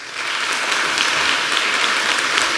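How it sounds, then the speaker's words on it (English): Dense, steady applause from a crowd at a town board of selectmen meeting in Lexington, sustained and fairly loud throughout with no talking over it. "Please hold your applause."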